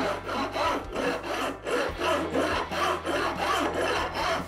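A file chamfers the fret ends along the edge of a guitar neck during a Firebird build, giving repeated rhythmic rasping strokes, roughly ten in steady succession, close and fairly loud with no talk.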